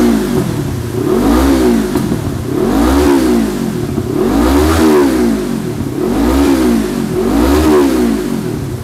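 A Yamaha MT25 motorcycle engine revved through its exhaust, loud close blips in a repeating rise-and-fall pattern, about five throttle pulses over a steady idle.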